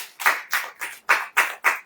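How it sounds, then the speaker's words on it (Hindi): An audience clapping hands in a church gathering, six or seven crisp, evenly spaced claps in a quick steady rhythm, close and loud. "ताली बजाओ।"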